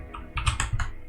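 Computer keyboard typing, a quick cluster of several close, crisp key clicks in a quiet room, with no voice.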